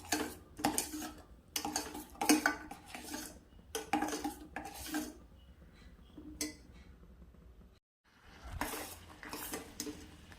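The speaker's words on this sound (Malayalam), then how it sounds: "ഇനി നന്നായിട്ട് നമ്മൾ മിക്സ് ചെയ്യണം." A spoon works through milk cake batter with sugar in a bowl, giving bursts of scraping and clinking against the bowl that come in uneven strokes, with a brief pause before the stirring resumes.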